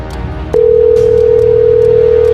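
A telephone tone in an animated film starts abruptly after a short pause and then holds as a loud, steady, unbroken pitch to the end.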